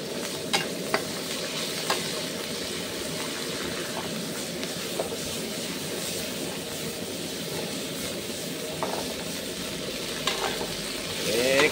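Long beans stir-frying in a wok over high heat, steady sizzling and frying with occasional sharp scraping clicks of a utensil stirring, continuous and fairly loud throughout.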